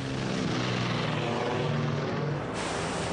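Twin-engine propeller airplane of the 1969 Let L-200/215-type with two 100-horsepower motors, a steady loud engine drone and propeller hum running continuously throughout, with no talk.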